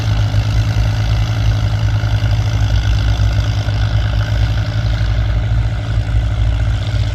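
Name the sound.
tractor engine pulling a plow through a field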